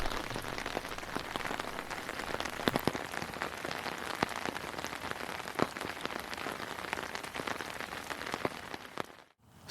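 Rainwater off a roof pours out of a tank overflow in a steady, close splashing patter with scattered sharper drips. It runs continuously until it cuts off abruptly near the end.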